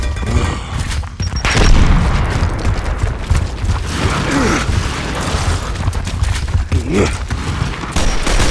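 A frag grenade blast in the Gears of War game booms amid heavy gunfire and mechanical clatter, with continuous loud battle noise and voices through the fight.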